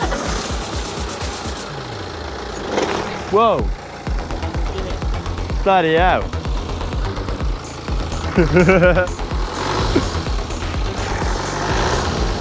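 A serviced BMW 3 Series Business Spec engine starts and settles into a steady, fairly loud idle, with a few rising revs along the way while people talk and exclaim over it.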